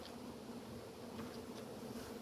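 Honey bees buzzing around a hive during an inspection, a steady close drone with a strong hum and faint passing whines, quiet and continuous, no talk.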